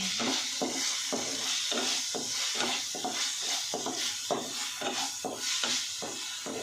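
Finely chopped tomatoes frying in a pan for macaroni pasta, with a steady sizzle broken by regular, rhythmic stirring strokes, about one every half second, close and fairly loud with no voices.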